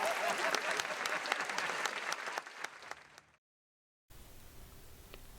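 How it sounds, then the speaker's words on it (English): A crowd applauding in a full burst with distinct sharp claps, thinning out before cutting to silence, then a faint steady room noise follows. "I love the sound of applause."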